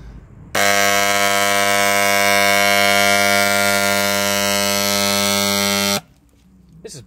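A repaired paint sprayer motor drones with a loud, steady electric buzz for about five seconds, then cuts off, leaving a quieter background.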